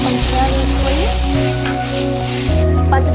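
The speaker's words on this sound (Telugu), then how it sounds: "అదే కళాయిలో కొంచెం నెయ్యి వేసి మనకి ఇష్టం వచ్చిన డ్రై ఫ్రూట్స్ వేసుకొని వేపుకోవాలి" Dry fruits frying in ghee in a kadai, a steady sizzle running throughout with sustained tonal music over it.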